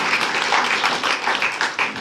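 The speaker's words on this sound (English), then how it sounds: "And we have now give her a small applause, a big applause for Elena for her story." An audience applauds at a debate gathering in Haarlem's Pletterij, giving a steady, dense patter of many hands clapping close by for the whole short stretch.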